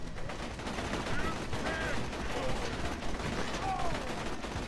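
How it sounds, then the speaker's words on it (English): Gunfire at a nomad enemy in the video game Borderlands 2, dense continuous shooting under game noise, with a voice talking over parts of it. "Shooting regular nomad."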